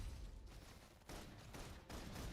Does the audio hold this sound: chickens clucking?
no